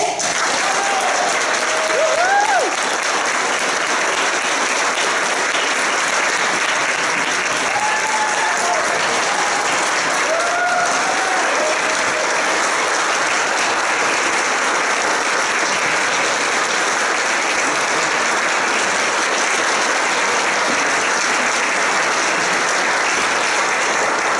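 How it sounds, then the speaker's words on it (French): Sustained applause from an audience honouring the 2017 graduates at a Collège Boréal diploma ceremony on the Hearst campus, a steady dense wash of clapping lasting the whole stretch with a few faint voices and whoops rising above it. "ensemble, applaudissons chaleureusement tous nos diplômés 2017"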